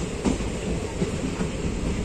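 Aboard the Ratnachal SF Express between Vijayawada and Visakhapatnam, a continuous loud rumble of carriages and wheels on track carries on throughout with faint rhythmic clatter.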